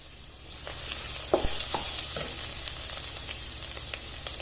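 Finely chopped carrots sautéing in a pan, a continuous soft sizzle with a few faint stirring scrapes and clicks, close and fairly quiet, no talking.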